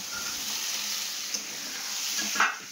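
Fried cauliflower and beans go into a hot pan, giving a continuous moderate sizzle with a couple of clinks and a short louder spatter near the end, no voices.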